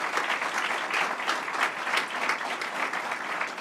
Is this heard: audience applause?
yes